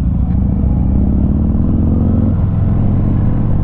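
A 2023 Harley-Davidson Heritage Classic V-twin cruiser rumbling along on a demo ride, a steady loud low throb with a loping pulse and a slight shift in tone partway through, heard close from the saddle.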